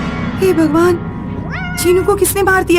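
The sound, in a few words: cat meowing and crying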